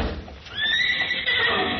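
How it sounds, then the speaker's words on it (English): A horse gives a loud, high whinny that rises and then holds steady for over a second, starting after a short stretch of quieter background noise. No one speaks during it. "Hey, that's a nice horse you got there"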